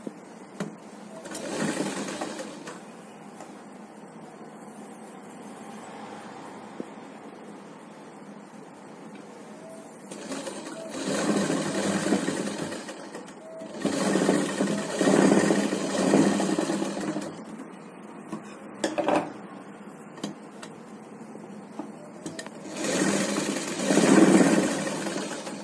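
A domestic sewing machine runs in several bursts of stitching along the lining of a child's umbrella frock, short whirring runs separated by pauses, close and fairly loud with no talking.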